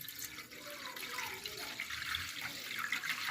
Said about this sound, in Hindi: दूध को मैं डाल लूँगा एक परात में।